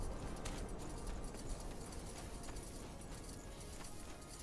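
Horse hooves clip-clop steadily in SpellForce 3, a dense, quiet stream of overlapping hoof beats set against a busy game background.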